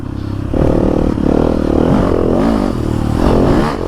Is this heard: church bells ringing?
no